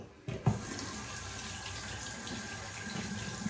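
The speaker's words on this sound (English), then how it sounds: "we'll go ahead and wet the face and get started" Tap water runs steadily from a faucet into a sink to wet the face before a shave, a continuous close splashing hiss after a brief quiet start.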